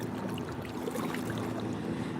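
A motorboat passing near a kayak on open water at night, a faint steady engine drone with a low hum and soft water lapping, distant and continuous, no voices over it.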